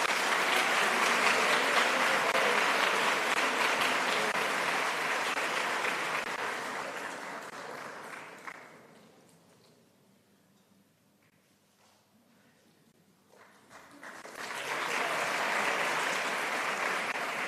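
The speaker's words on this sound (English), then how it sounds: "A round of applause for Diego Martin Minguito." Graduation ceremony crowd clapping loudly and steadily, fading down to near quiet midway before a fresh burst of applause swells back up.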